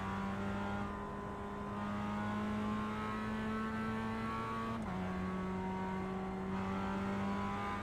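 A race car's engine holds a steady high-revving drone in iRacing, then a brief pitch drop and shift as another car passes close by, the whine continuing loud and unbroken afterward.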